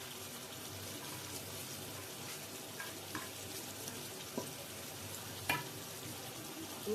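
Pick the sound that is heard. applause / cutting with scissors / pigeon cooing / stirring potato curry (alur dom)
stirring potato curry (alur dom)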